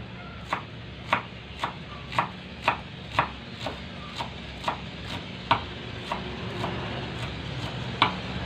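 A knife chops green onions steadily on a cutting board, about a dozen crisp, evenly spaced strikes close up, with no talking.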